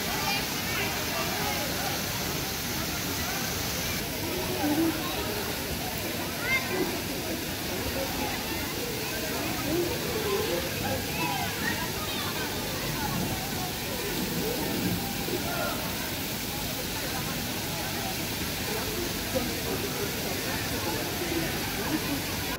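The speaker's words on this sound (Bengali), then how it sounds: "মাঝখানে আরেকটি ঝর্ণা থেকে পানি পড়ছে" Water pours steadily from a fountain at a theme water park, making a continuous broadband splashing rush that stays even throughout.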